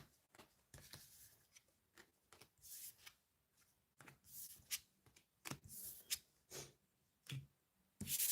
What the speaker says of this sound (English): let's tidy up these cards